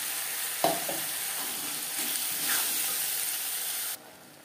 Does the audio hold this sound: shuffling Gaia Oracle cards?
no